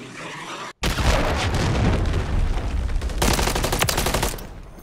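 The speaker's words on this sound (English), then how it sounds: "Friendly cruise missile deployed." A cruise missile strike in Call of Duty MW3 lands as a loud, sustained burst of booming blasts and rattling gunfire after a brief cutoff, dense and close, with no voices.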